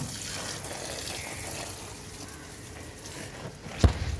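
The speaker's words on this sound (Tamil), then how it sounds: "இது மினி ஆரஞ்சுக்கு விட்றோம் இப்போ தண்ணி" Water runs steadily onto a mini orange plant in a home garden, a soft continuous pour and trickle heard close by, with a brief knock near the end.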